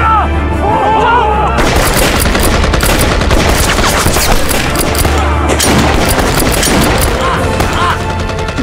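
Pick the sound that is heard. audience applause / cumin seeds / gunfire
gunfire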